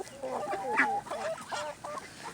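Farm chickens cluck and squawk nearby in a short burst of overlapping calls, fairly close and moderately loud, with no talking.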